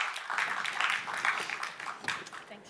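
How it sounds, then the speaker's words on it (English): An audience at a panel discussion gives new panelists a brief, fairly soft round of applause, with steady scattered clapping throughout. "we'll give a round of applause for our new panelists"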